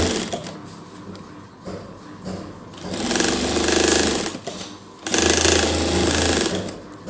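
Sewing machine stitching pleats onto a sleeve in steady bursts, a quieter run followed by two louder, faster spells of close mechanical whirring and needle chatter, with no talk.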